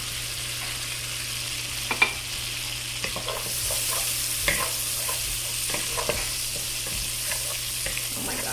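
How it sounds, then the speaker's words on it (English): Onion and garlic brown in melted butter in a pan, giving a steady close sizzle with occasional soft clicks and scrapes of stirring; no voices. "once your butter is almost melted, go ahead and add in your onion and your garlic"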